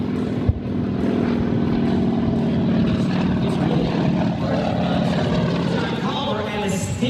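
A jet-engine-powered Shockwave jet truck roars at a drag race, a loud continuous whining blast that holds steady for several seconds, with a commentator talking over it.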